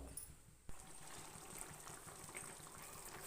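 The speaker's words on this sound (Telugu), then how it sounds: "ఇప్పుడు చింతపండు పులుసు పోతున్నాం చూడండి." Tamarind juice poured into a pot of fish curry, a steady low trickle and splash running on quietly throughout with no talking.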